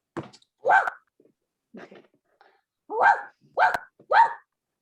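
A dog barks in a staged reading of the Japanese folktale Momotaro, six short yaps and woofs in uneven bursts, close and fairly loud, with quiet gaps between them.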